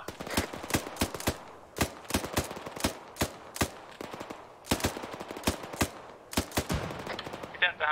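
Sharp gunshots crack out in a military video game as fire is directed at an enemy-held two-storey house, some single and some in quick bursts, with brief gaps between volleys.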